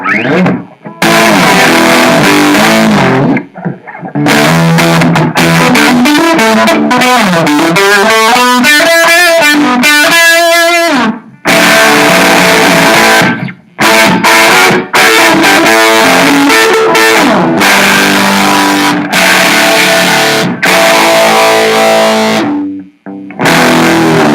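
Loud distorted electric guitar plays riffs and sustained chords, cut off abruptly several times by a kill switch between phrases, with slight popping, and no talking.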